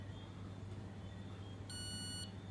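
A high electronic alarm tone sounds in one short burst against a steady low hum, an Aquatronica Touch aquarium controller signalling low sump water level.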